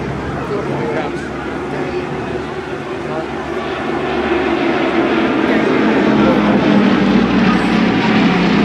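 Bristol Blenheim vintage aircraft making a topside display pass at Torbay Airshow, its engine drone growing louder and steady, with a commentator talking over it.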